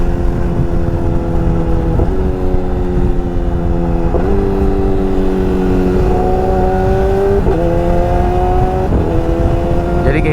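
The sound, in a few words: Yamaha R6 motorcycle engine running, not revved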